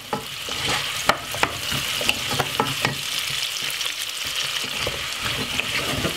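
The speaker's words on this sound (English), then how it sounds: "And I'm going to simply give it a stir." Chunky cut vegetables are stirred in a frying pan over a steady sizzle, with a scatter of sharp scrapes and clacks from the utensil against the pan standing out above the frying hiss.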